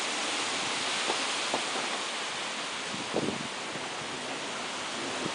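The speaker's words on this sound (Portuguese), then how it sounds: "Olha como o vento balança as árvores." Steady broadband wind roars continuously, with leaves rustling and occasional soft gusts or bumps; no talking.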